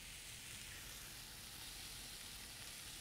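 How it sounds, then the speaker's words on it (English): Chopped onion and barley sautéing in a small skillet, a soft, steady sizzle with no talking. "Saute the onion for about 2 or 3 minutes. Just in a little skillet."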